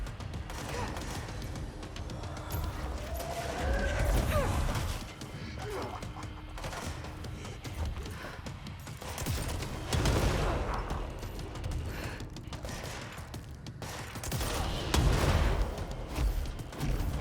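Gunfire in the video game Control, with repeated bursts of shots and crashing impacts rolling in several loud waves, close and heavy.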